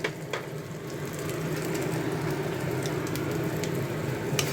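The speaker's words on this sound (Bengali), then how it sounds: "এরপরে এই কড়ার মধ্যে আমি একটু সাজিরে আর তেজপাতা ফোড়ন দিয়ে দেবো" Cumin seeds and bay leaves fry in hot oil in a wok, a dense, even crackling sizzle like light rain that holds steady and close throughout.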